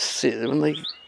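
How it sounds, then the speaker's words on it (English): A robin sings from willow trees beside a pond, giving a brief outdoor phrase of bright chirps and warbling notes. A lower, buzzy tone runs underneath at moderate loudness. "I can hear a bird singing, at least I could. I think it's a robin."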